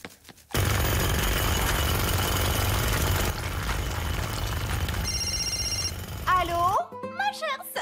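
An old-style telephone bell rings in a children's cartoon, a loud, continuous rattling ring that stops abruptly, followed by a brief tone and a cartoonish voice.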